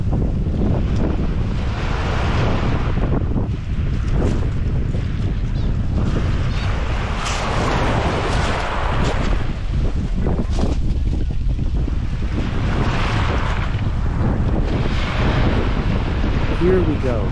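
Sea waves wash over a pebble beach in Oman under heavy gusting wind that buffets the microphone. The surf swells and recedes in loud, repeated surges, with no clear talk.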